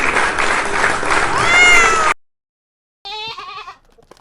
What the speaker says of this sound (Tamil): நான் தான் கோட். GOAT code.